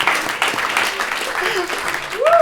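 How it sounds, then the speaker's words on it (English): Live audience at a stage arts performance applauding and cheering, a broad continuous clatter of clapping with whoops, fairly loud and sustained throughout. "Huge round of applause."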